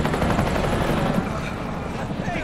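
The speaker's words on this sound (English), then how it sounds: "Helicopters flying." A helicopter flies overhead in Resident Evil 3, its dense rotor chop thrumming continuously and loudly, with a faint voice under it.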